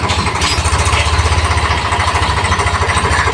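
A tractor engine runs close by, its steady low pulsing chug loud and continuous throughout with no talk.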